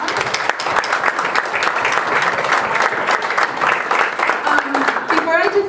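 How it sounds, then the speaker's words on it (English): Sustained applause from an audience at a church youth gathering, dense steady clapping filling the room for several seconds, with a voice faintly audible near the end. "So can you give yourselves a round of applause?"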